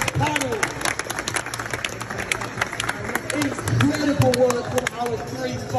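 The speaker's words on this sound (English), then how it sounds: "Massive round of applause," Audience applause at a wrap film competition event in Birmingham, a steady wash of clapping with crowd noise running under a host's voice throughout.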